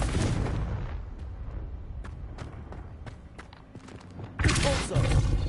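A Confringo fire spell bursting in Hogwarts Legacy, with a dense rumbling blast bed, scattered sharp cracks and a louder explosive burst near the end.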